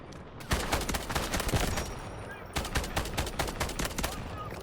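Gunfire from the SR9 sniper rifle in the video game Delta Force cracks out in dense clusters of sharp shots, loud and close, with a short lull between two heavy volleys.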